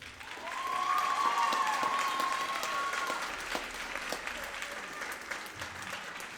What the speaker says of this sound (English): Students, will you give Taylor a round of applause?